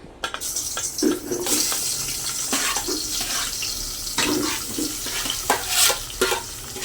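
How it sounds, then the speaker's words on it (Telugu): Pieces of cut bitter gourd dropped into heated oil in a pan, giving a steady broadband sizzle with crackling bursts throughout, close and fairly loud, no voices. "ఇప్పుడు ఆయిల్ అయితే హీట్ అయిందండి. ముందుగా మనం కట్ చేసి పెట్టుకున్న కాకరకాయ ముక్కల్ని అందులో వేసేద్దాం."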